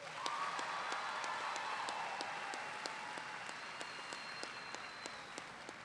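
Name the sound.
audience applause for graduating class at ceremony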